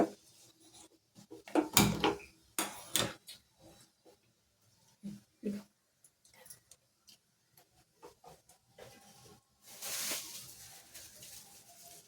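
Mustard seeds spluttering in a spoonful of hot oil for broad bean sambar: scattered sharp pops and crackles. A dense cluster comes early, then sparser taps and a brief hissy flare near the end.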